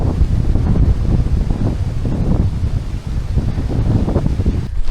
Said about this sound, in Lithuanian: O kaip vėjelis pradėjo pūsti.